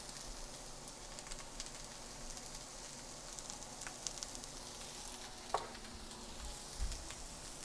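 A stir-fry sizzles softly in a wok after a pinch of salt, with a continuous faint hiss and a couple of small clinks as it is stirred.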